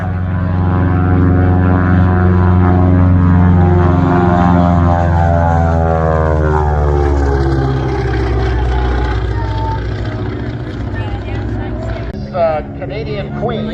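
A propeller aircraft makes a low topside pass at Air Show Atlantic in Debert, its loud engine drone sweeping steadily past with a falling pitch shift before fading near the end, while an announcer talks over it.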